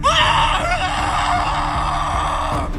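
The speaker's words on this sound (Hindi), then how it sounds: "रॉयस की एक चीख के साथ" A scream sound effect in a Hindi horror story, heard as a loud, sustained, close cry that rings out over a dense background for nearly three seconds before tailing off.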